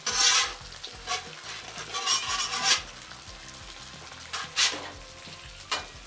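Biscuits sizzle on a hot Blackstone griddle near 331 degrees as a spatula flips them, with bursts of scraping and frying crackle over a steady hiss and a few sharp metal scrapes.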